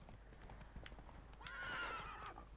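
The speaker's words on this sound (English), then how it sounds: "Horse moves pretty fast" Video game horse hoofbeats from Hearts of Stone clop along quickly and softly, then the horse lets out a whinny midway as the hooves continue underneath.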